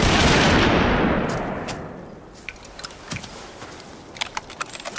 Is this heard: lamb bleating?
no